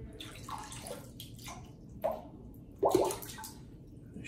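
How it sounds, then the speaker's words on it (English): Wet splashing and dripping water, with a couple of sharper splashes as water is flicked off a shaving brush, close by and moderately loud. "Shake off just a little water"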